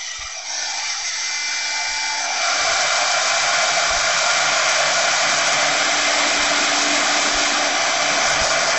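A heat gun blows hot air over craft resin in a flower vase tray mould, a loud, steady whooshing roar that swells after a second or two and holds evenly throughout.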